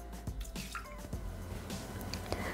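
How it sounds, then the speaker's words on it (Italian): Water poured into the mixing bowl of a Thermomix (Bimby TM6), a soft wet dribbling and dripping of liquid at close range, alone without any talking. "Mettere nel boccale l'acqua,"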